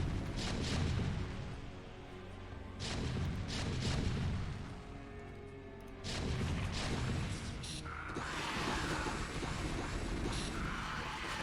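Mutalisks swarming a Terran siege tank in StarCraft, with heavy booming impacts and explosive bursts rolling in loud waves and brief dips, a dense, continuous battle din.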